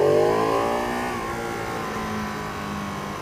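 A Ducati Panigale 959 motorcycle accelerating hard, its engine note climbing in pitch, then a quick shifter gear change into a steadier lower drone, close and loud with no talk.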